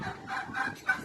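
Several fowl call loudly on a morning farm, probably the turkeys being let outside; a near, continuous chorus of overlapping calls with a sharper cry near the end.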